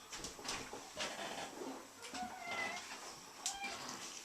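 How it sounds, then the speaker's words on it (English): A cat meows a few times, short plaintive calls at close range with light household rustling and faint background noise between them. "Let me show you my kitty cat."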